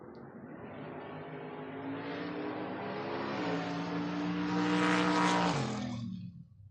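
A Mustang and a Chevy II drag racing, with a loud engine roar swelling as the cars launch and rev, pitch climbing through the run, then fading away at the end, heard alone without voices.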